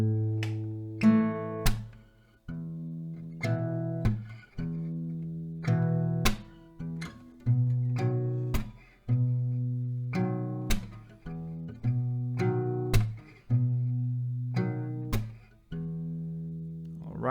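Slow acoustic guitar intro to a song, plucked note patterns ringing out in a steady, unhurried rhythm, close and clear with no talking.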